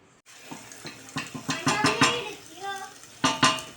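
Grated onions being stirred and sautéed in a pan for stuffed grape leaves, with a run of close utensil scrapes and clinks against the pan and a light sizzle underneath, no talking.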